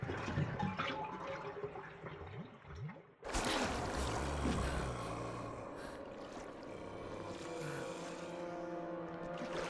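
Dirty water drains from a tub after the plug is pulled in the Resident Evil remake, a sudden loud rushing gurgle that starts abruptly and keeps flowing steadily, following quieter mixed game sounds.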